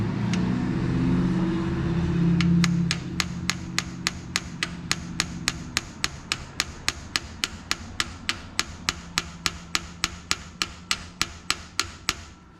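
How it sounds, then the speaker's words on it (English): A big hammer strikes a welded pin in a 12-bolt axle from a 1966 Impala during a Posi swap: a low rumble at first, then a long run of evenly spaced, sharp metallic blows, about thirty in quick steady rhythm, close and loud. "Went and got the biggest hammer out of the toolbox I could find."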